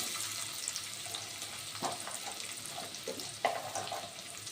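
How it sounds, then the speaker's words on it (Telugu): Onions and vegetables fry in a pan, giving a steady low sizzle with a few brief stirring knocks, close and fairly quiet, with no talking. "ఫ్రై చేసిన వెంబడి ఇంకా ఇక్కడ ఆనియన్స్ యాడ్ చేస్తున్నాను"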